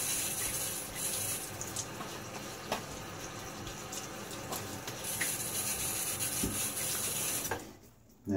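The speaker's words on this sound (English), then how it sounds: "A little rinse." Razor rinsed under a running tap during a shave with a Fatip Grande open-comb razor and Gillette Nacet blade; steady close water hiss and splashing, ending with a brief clunk.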